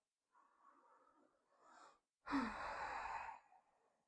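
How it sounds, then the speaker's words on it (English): A slow releasing breath at the close of a meditative yoga practice: a soft inhale followed by a fuller, breathy exhale, close and quiet with no talk. "taking one last releasing breath in and out"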